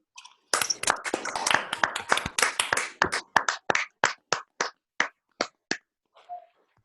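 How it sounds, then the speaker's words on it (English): Applause follows an online mathematics seminar talk: a burst of mixed, overlapping claps that thins into slower, isolated claps and then dies away, with no talking. "once again give a round of applause to both Christoph and Zakar together."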